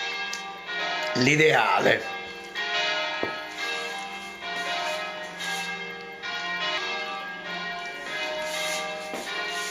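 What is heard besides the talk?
church bells ringing on Sunday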